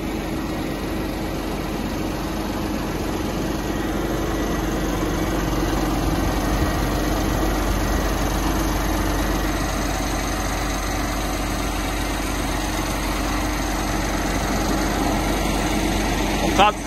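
A remote-controlled agricultural machine runs with a steady, unbroken engine drone at an even level, close by, continuing the whole time without revving up or down.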